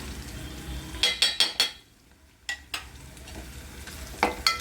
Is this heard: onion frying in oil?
yes